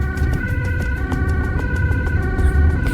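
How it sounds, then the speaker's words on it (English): An ambulance siren wails loudly and steadily in Amsterdam rush-hour traffic, close by, with a sustained pulsing tone over low traffic rumble and no talking. "Drivers on the first and second lane are well aware of the approaching ambulance and are quick to make space."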